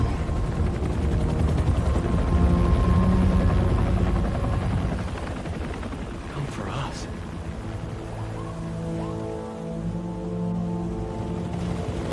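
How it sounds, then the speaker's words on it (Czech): A helicopter flies in Marvel's Spider-Man 2 video game, a loud steady rotor rumble that dominates at first and then eases into a lower drone beneath other game sounds and voices. "Marku se momentálně odvážejí vrtulníkem na další Double Academy konferenci."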